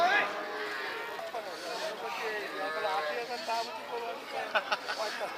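Cattle at a busy roadside cow market low and moo repeatedly, fairly close, beneath a steady babble of people talking and bargaining, with scattered knocks and movement sounds toward the end.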